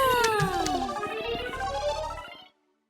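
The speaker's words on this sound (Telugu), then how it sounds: "పిల్లి ఒకటి వచ్చింది." A cat gives a long, drawn-out meow that falls in pitch, followed by a couple of shorter calls, close and clear, before the sound cuts to silence.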